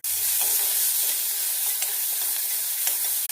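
Mustard seeds, black pepper and cumin sizzle in hot oil in a pan, a steady bright hiss with faint crackles and a few small pops, continuous and close.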